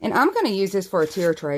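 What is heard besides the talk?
No everyday noises stand out.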